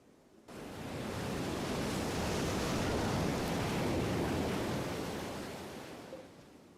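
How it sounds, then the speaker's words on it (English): A beach sound recording of ocean waves plays as a broad, steady wash of noise like surf, rising and then slowly fading, with no distinct individual wave breaks. "but that was supposed to be a beach sound."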